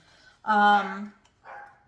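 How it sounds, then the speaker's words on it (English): A dog barks indoors: one long, loud, harmonic bark followed after a short pause by a second, shorter and quieter one, both close by. "I don't know what my dog's barking at, but he's just decided to go off."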